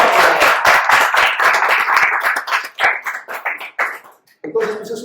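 An audience claps and applauds at a fifth-anniversary celebration event, a dense burst of hand claps that thins out and tapers toward the end, with a voice speaking over the final moments.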